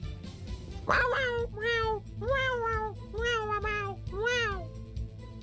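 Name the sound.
voice imitating a cat's meows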